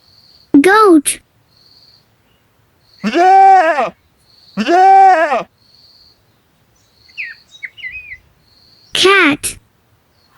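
Goat bleats come in three loud, close, wavering cries spaced a couple of seconds apart, with a spoken word at the start and a few faint chirps between the calls.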